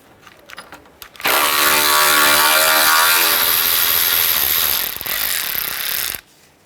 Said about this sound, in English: Now we're going to remove the 2 bolts holding our condenser in place, one on each side.